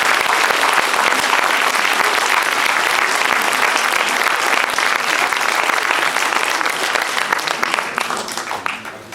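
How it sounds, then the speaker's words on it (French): Sustained applause from an audience at a youth improv challenge event, dense and steady clapping throughout, tapering slightly at the end. "je pense qu'on peut continuer de les applaudir."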